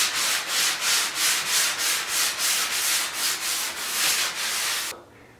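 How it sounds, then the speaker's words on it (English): Light sanding of spackle filler on a bathroom cabinet, a steady rhythmic rasp of back-and-forth strokes, close and loud, about a dozen even passes before stopping abruptly. "So you can see where I just filled this in with spackle. I'm going to just lightly sand it."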